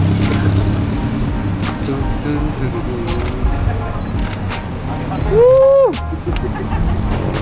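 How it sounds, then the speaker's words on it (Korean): MINI car driving into the Tsukuba circuit in Japan, a steady engine and road rumble under continuous narration, with a short rising whine near the end. "드디어 스쿠바 서킷으로 들어서는 바카미니"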